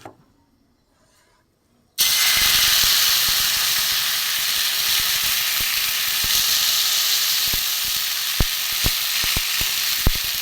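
After two seconds of near silence, a loud, steady hiss of rice omelet frying in oil fills the pan, with a few sharp clicks of stirring toward the end.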